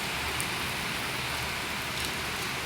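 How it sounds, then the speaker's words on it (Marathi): Heavy rain falls without a break just outside a house, a loud, even wash of drops drumming on surfaces with no speech over it. "बघा किती पाऊस चालू आहे"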